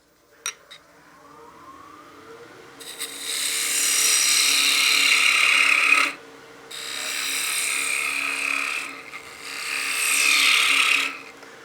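A spindle gouge cuts a wooden wine glass spinning on a lathe, giving three long hissing, scraping passes separated by short pauses. The sound is close and steady with a low motor hum beneath and a couple of faint knocks at the start.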